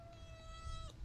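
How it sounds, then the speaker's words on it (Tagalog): A house cat gives one drawn-out, tonal meow close by, rising slightly at the end over low room noise. "Ang kulit na itong pusa ko."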